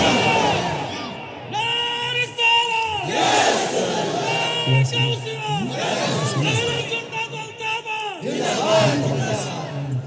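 Large gathered crowd roaring the takbir chant Allahu Akbar in repeated loud unison waves, each call swelling and falling in rhythm, close and dense.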